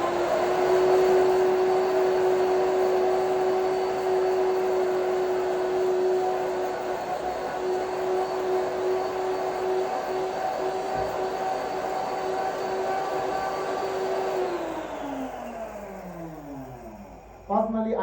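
A pepper grinder machine grinds bottles with a loud, sustained whirring drone that holds steady, then winds down and fades as the motor spins to a stop.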